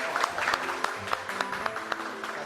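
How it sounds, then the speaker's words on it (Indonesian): Applause from a classroom audience for a presenting group during a physics teacher-training session, a short burst of scattered clapping from a small group with voices mixed in. "Kita berikan tepuk tangan dulu ya untuk"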